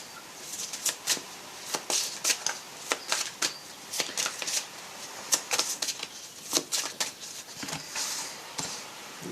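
Tarot cards are shuffled by hand in quick, repeated riffles and taps. The crisp bursts come close and clear against a quiet background.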